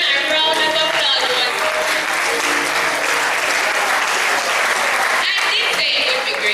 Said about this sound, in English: Ladies and gentlemen, please lend them a round of applause.